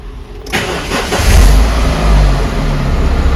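A Renault Laguna II car engine cranks and catches with a sudden start, then settles into a loud, close, rough idle, with no talking.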